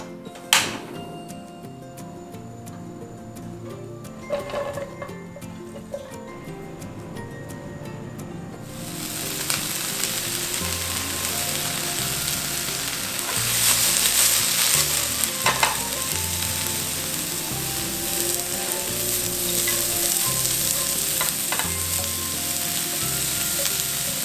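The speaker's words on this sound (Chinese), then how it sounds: "倒入一点植物油，现在炒我们的花椰菜" Cauliflower stir-frying in vegetable oil in a pan for a dry-pot dish, a loud continuous sizzle that jumps up partway through, with repeated scraping of the spatula against the pan.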